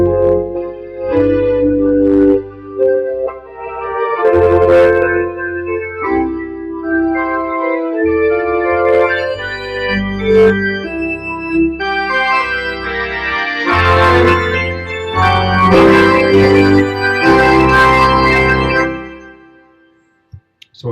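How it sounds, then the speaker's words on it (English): A Lowrey Royale organ on its traditional pipe organ preset plays full sustained church-style chords and a moving melody, loud and rich with deep bass pedal tones, solo with no talking. "C is perfect for those who might want some of the more traditional pipe organ sounds"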